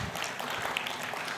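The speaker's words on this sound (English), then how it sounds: "Big round of applause for Ed" An audience claps for Ed at a talk on professional communication, a brief, moderately distant patter of many hands spread evenly through the moment.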